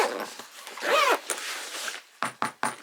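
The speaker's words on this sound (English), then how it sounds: "You zip it up." A zipper closes a padded VR headset carrying case made for Meta Quest and DJI gear, ending in three quick, close zip strokes after a stretch of softer rustling and a brief whiny tone.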